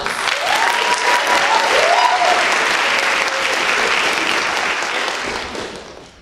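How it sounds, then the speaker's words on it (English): An audience claps to welcome a speaker at a speech night, a full, steady round of applause that gradually fades out toward the end. "Please welcome Tristan with a big round of applause"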